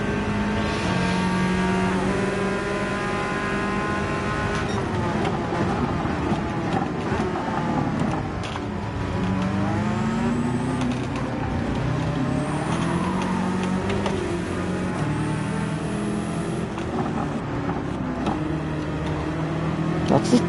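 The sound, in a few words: Ferrari 296 car exhaust in a racing video game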